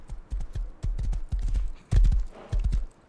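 Horse hooves clip-clop in the video game Rust, a loud, close run of rhythmic hoofbeats in quick bursts with brief pauses, with no talk over them.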